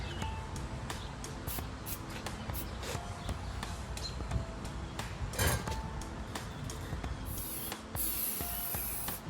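Sprayway tire shine aerosol spraying in an auto detailing setting, a continuous close hiss with small clicks and handling noises, ending in a brighter, stronger burst of spray.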